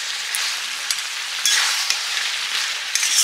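Fish-head curry with papaya is stirred as it fries in a pan, giving a bright, steady sizzle with bursts of louder crackle at each stir. The frying is close and alone, with no voices.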